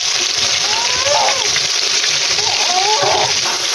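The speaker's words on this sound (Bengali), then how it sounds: "এখন ব্লেন্ডার করা মশলাগুলো দিয়ে দেবো।" Blended spice paste goes into hot oil with fried tomatoes for katla fish kalia, making a steady, fairly loud sizzling hiss throughout, with a few faint chirping tones over it.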